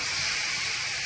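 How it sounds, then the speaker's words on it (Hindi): Vegetables being tempered in hot oil give off a steady, close, loud sizzle. The hiss is continuous and carries no talk. "सब्जी छौंक दो"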